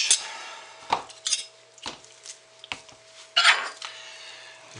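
Several spoons clink and scrape against containers while thick, pudding-like soap batter is plopped in four colors, a run of close, uneven metallic taps and soft wet knocks with no talking.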